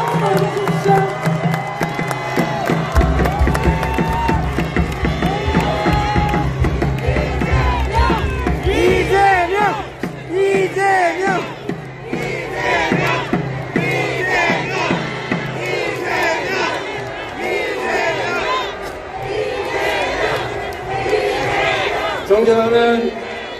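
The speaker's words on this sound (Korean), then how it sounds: "큰 박수 보내주십시오." A political rally crowd greets Democratic Party leader Lee Jae-myung with loud, sustained cheering, rhythmic chanting and shouts that fill the space, rising and falling in waves.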